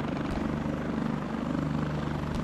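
Helicopter flying in a military combat video game, its steady rotor chop and engine drone loud and continuous throughout, with no talk.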